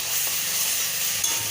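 Spice masala for chicken curry frying in a pan, a steady close sizzle and hiss with faint stirring, no voices.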